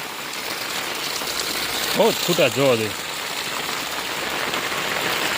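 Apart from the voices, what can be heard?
heavy rain falling in a village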